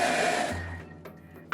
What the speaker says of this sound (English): Into the blender goes carrot, a cup of cardamom, and equal parts of sugar and salt.